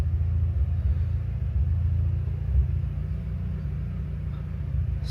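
Turbocharged Mitsubishi EVO X running on a dyno, a steady deep engine rumble that stays loud and even throughout with no talk.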